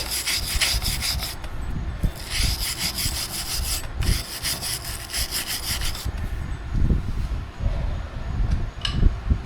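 Rusty, dirty rear wheel hub on a Mazda 6 being scrubbed clean by hand, repeated rough rasping strokes in bursts with brief pauses, close and loud, no talk.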